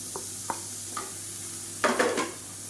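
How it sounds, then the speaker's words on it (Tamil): Finely chopped medium tomato sautéing in fried masala for an egg curry: a low, steady sizzle with a few sharp spatula taps, then a louder burst of stirring and scraping near the end. No one speaks. "இப்போ மீடியம் சைஸில் ஒரு தக்காளி பொடியாக கட் பண்ணது சேர்த்துக்கலாம்"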